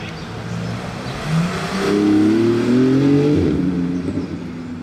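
A Porsche 911 GT2 RS accelerates past, its engine note rising and revving in a clear mid-range whine that swells, peaks and eases off over a few seconds, moderately close with no talk.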